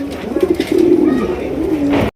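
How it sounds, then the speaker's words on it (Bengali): American fantail pigeons coo in a cage, a close, loud run of soft throaty coos lasting about two seconds, with no talking over them. "আমেরিকান অরিজিনাল ফ্যান্টাল কবুতর একদম বিশাল"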